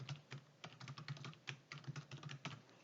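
Fingers type on a computer keyboard while entering text in an Excel spreadsheet, a quick irregular run of soft, close key clicks with no talking.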